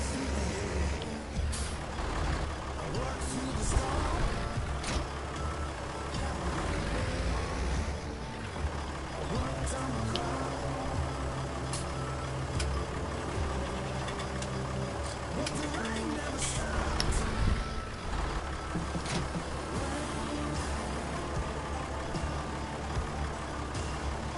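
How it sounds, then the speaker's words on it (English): Tractor engine in Farming Simulator 19, a steady low diesel drone running throughout with engine hum and occasional clanks and hisses, accompanied by faint background music and game sounds. "I love this tractor though."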